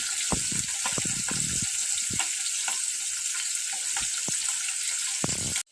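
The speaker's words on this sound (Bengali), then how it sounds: "এই যে কিছুটা মাছ ভেজে উঠালাম, এই যে কিছুটা ভাজতে বসিয়েছি" Small fish frying in hot oil, a steady close sizzle running throughout with occasional bursts of spatter and scrapes, then stopping abruptly at the end.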